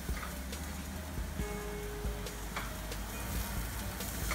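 Eggs frying in a pan with spinach-like greens and chili, a soft steady sizzle under occasional scrapes and taps of a utensil, quiet and close with no talk.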